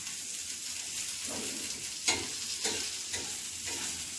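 Okra (bhindi) fries in a pan with a constant bright sizzle, broken by several rhythmic scraping stirs of a spatula every half second or so, no voices.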